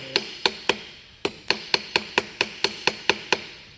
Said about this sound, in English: Just hammering away at an anvil can get kind of boring.